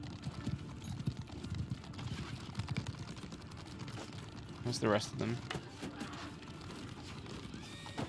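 Galloping hooves and a brief whinny from horses in the video game Mount and Blade II: Bannerlord, set in a battle with mounted archers, a steady clattering under a voice with rapid keyboard typing.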